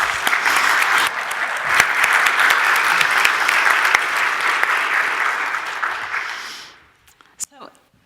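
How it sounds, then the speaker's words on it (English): An audience claps loudly and steadily to welcome a guest speaker for a restorative justice talk, the dense applause tapering off near the end, followed by a couple of brief faint sounds. "So why don't we welcome her with a round of applause."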